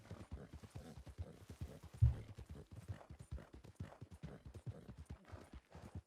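Hooves pound in a quick, steady galloping rhythm, a horse in a video game running at speed with regular thudding beats and one heavier thump partway through.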